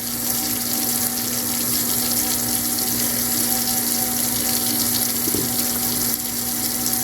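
Tap water runs steadily and continuously while a toothbrush is rinsed under it, a close, even hiss throughout with no talking.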